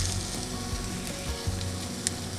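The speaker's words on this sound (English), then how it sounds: "I couldn't keep up with how fast the eggs were cooking" Eggs fry in a heavily oiled non-stick pan in a van kitchen, giving a steady close sizzle with faint crackles throughout and no talking.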